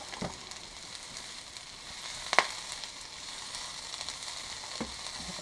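Onions frying in a pan as they darken and shrink, giving a soft, steady sizzle with a faint crackle and one brief clatter midway, with no one speaking.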